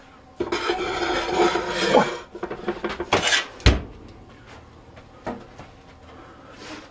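A pan of goat meat clatters as it is slid into a cold, unlit oven, with metallic scrapes and knocks followed by a short thud as the oven door shuts.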